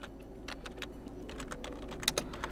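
A computer keyboard clicks out a short command in quick, light keystrokes, close and fairly quiet, with no voices.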